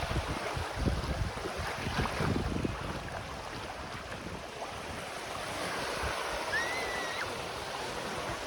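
Steady sea surf washes along a beach at a coconut resort, a continuous broadband roar with wind buffeting the microphone and a brief faint squeal near the end, with no voices.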